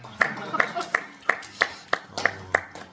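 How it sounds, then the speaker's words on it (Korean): A single person or small group claps in a church teaching setting: eight crisp, evenly spaced hand claps, close and moderately loud, with a faint murmur of voices underneath. "박수 한번"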